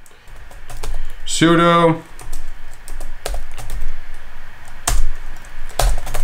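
Close computer keyboard typing as a command is entered while setting up a Raspberry Pi Zero 2 W, with rapid clustered key clicks and sharp taps, accompanied by someone speaking.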